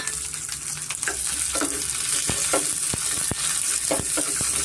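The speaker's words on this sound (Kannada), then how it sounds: "ಸ್ವಲ್ಪ ನಾವು ಫ್ರೈ ಮಾಡ್ಕೊಬೇಕಾಗತ್ತೆ ಮೀಡಿಯಂ ಟೈಮಲ್ಲೇ ಸ್ವಲ್ಪ ನಾವು ಫ್ರೈ ಮಾಡ್ಕೊಳ್ಳೋಣ" Garlic, green chili and onion fry in a pan with a steady loud sizzle, punctuated by a series of sharp spatula scrapes and taps as the mixture is stirred, close and without speech.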